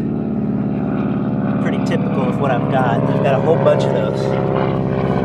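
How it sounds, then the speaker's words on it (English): An airplane drones overhead above a garden, a loud continuous propeller hum that runs all the way through while someone talks over it. "Sorry about the airplane noise."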